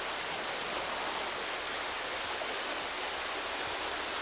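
Powder Mill Creek pours steadily into the Black River, a dense, even rush of flowing water with no breaks, close by and alone without any voices.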